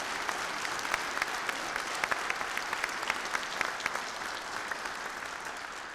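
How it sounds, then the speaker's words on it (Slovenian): Steady, dense applause from a large audience of several hundred in a congress hall at a party's founding congress, even and continuous throughout. "Predlagam, da se jim zahvalimo z aplavzom."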